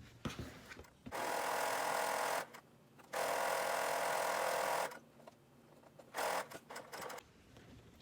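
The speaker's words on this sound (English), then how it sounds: "So I'll take it to my sewing machine and just sew between these two marks" A sewing machine runs in several bursts of fast, steady stitching while sewing a sleep mask, separated by brief pauses, close and moderately loud with no talking.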